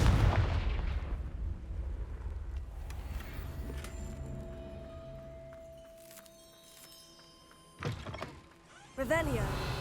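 A Confringo fire spell cast in the Hogwarts Legacy video game, a booming, artillery-like blast that rolls off into a fading rumble, followed by short sharp thumps near the end, with a voice speaking over the opening.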